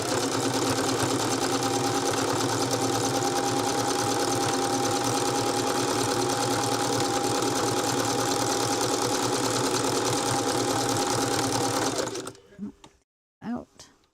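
A sewing machine stitches a fabric-wrapped rope bowl in a steady, fast, continuous whir that runs for about twelve seconds, then stops abruptly, leaving a few faint clicks and handling sounds.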